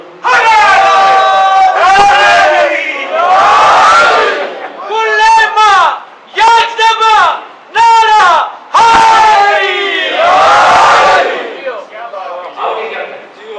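A crowd at a Shia majlis (chehlum gathering) roars religious slogans in unison, loud, repeated bursts of massed voices answering a lead call over about fourteen seconds, with shouted chants rising and falling in waves.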